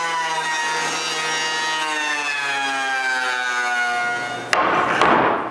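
Oak boards fed through a woodworking surfacing machine make a steady, loud droning whine with a rising pitch, ending in a sharp knock and a rougher burst of cutting noise.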